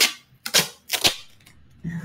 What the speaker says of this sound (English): Taking her tape.